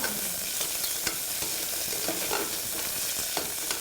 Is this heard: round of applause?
no